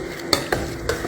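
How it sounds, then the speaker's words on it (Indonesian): Apples sautéed in a hot pan give a low sizzle broken by three sharp scrapes of a utensil stirring them, close by, with no speech. "Dia udah panas, kita masukkan apelnya."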